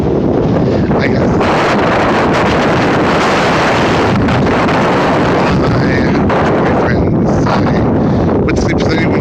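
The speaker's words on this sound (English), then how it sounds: "It's really windy, sorry." Heavy wind buffets the microphone in continuous loud rumbling gusts that fill the whole stretch, with a voice faintly audible beneath the roar.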